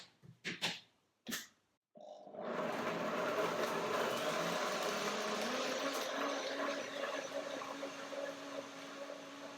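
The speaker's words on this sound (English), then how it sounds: "This is a German blender. It's called Revo Blend, Revolution Blending." After a few sharp knocks and clunks, a German Revo Blend blender starts up and runs steadily, whirring loudly as it purees frozen peas with near-boiling water into soup, with no talk over it.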